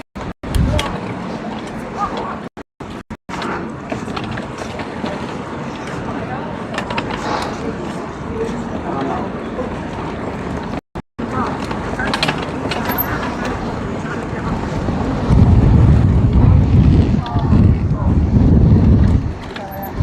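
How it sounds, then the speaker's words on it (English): Wind buffets outdoors along a cycling route, rumbling and gusting against the microphone, with a stronger roaring gust toward the end, while someone talks throughout. "Oh, the wind's picked up."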